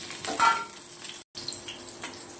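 Green chillies, cumin, panch phoron, cardamom, cloves, cinnamon and bay leaf spit and sizzle in hot oil, a close crackling fry with a brief dropout midway.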